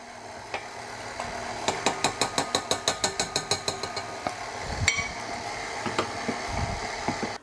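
A mixer slowly works chocolate chip cookie dough, folding the dry ingredients into the wet, with a steady run of rhythmic mechanical clicks and clunks from the machine and no voices.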